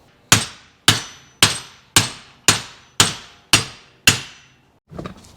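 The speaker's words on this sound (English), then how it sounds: "I'm just going to hammer one of these out" Eight sharp metallic hammer blows ring out in a steady rhythm, close and loud, as a rear wheel hub stud is driven out of a Honda Accord hub, followed by a brief softer clatter.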